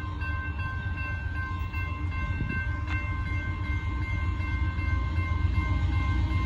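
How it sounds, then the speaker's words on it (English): A northbound Union Pacific freight gravel train rumbles past steadily at a level crossing in Austin, Texas, with a continuous low roar and a brief whistle-like tone, no talking. "Here comes that gravel train finally."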